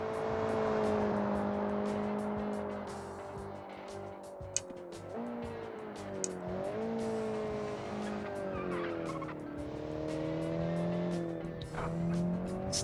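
Light rear-engined sports car on skinny front tires driven in the Automation game, engine droning and shifting pitch through corners with tire squeal and skidding, loud and continuous throughout with no talk.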